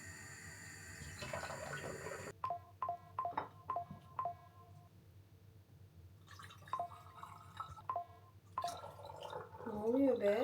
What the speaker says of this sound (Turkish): Telefonuma bildirim geliyor.